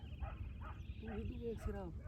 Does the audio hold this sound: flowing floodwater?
no